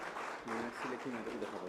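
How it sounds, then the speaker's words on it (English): Applause for a minister at the IMEC Conclave 2025 ministerial address, a steady wash of clapping from the hall, moderately loud and continuous, with a voice talking over it. "Applause should be louder, huh?"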